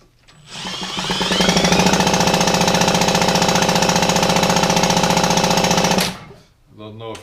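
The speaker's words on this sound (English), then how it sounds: "And I haven't got this connected, so the engine sounds strange." A small engine with an Ignitech ignition not fully connected runs with a rapid, rough, rattling chug for several seconds, then cuts out abruptly before a brief voice.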